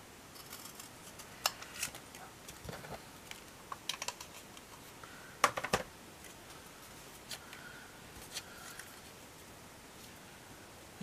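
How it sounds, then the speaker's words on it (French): Quiet, scattered snips of scissors cutting paper for a handmade tulip card, irregular small clicks and cuts at close range with no talk. "je vais couper un petit peu avant parce que c'est encore un peu trop droit"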